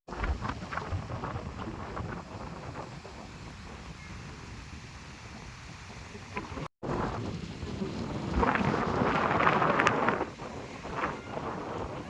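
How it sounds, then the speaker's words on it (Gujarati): Strong wind gusts roar and buffet the microphone continuously, swelling louder toward the end, with a steady rushing noise and a brief dropout midway. "પવન તો જો પવન ફૂલ આવે સુસવાટા મારતો"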